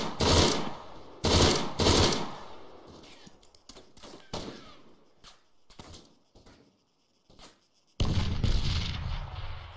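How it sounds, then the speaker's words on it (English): Loud, sharp blasts and bursts of combat fire in an online military shooter game, several big broadband booms with rattling gunfire between them, close and alone with no talk. "Oh, nice grenade for Barrow. Nice grenade."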